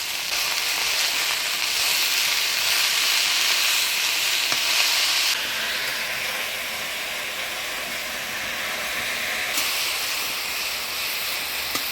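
Leafy greens hit hot oil tempered with spices, green chilli, salt and turmeric, giving a loud, dense hiss and crackle that sizzles continuously, stepping down slightly partway through as stirring settles the pan.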